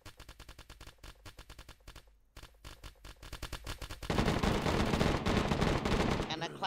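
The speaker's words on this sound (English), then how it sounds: "I'm shooting." Rapid gunfire in the survival game DayZ during a firefight on Bear Mountain: a steady rhythm of repeated shots, then a louder, denser burst of continuous fire near the end, with faint talk alongside.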